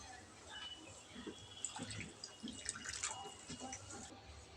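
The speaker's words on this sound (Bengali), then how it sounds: "তো এখন আমি পানি দিয়ে দিব।" Water is splashed into a pan of fried chopped onions, giving a soft dripping, trickling sound with light sizzling and scattered kitchen clatter at moderate volume.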